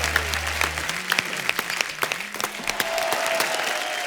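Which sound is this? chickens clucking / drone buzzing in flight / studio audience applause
studio audience applause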